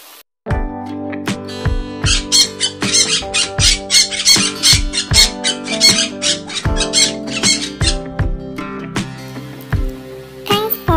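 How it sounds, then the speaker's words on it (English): A parrot squawks in a rapid series of loud, bright cries, set against rhythmic background music with regular beats. "This is Parrot."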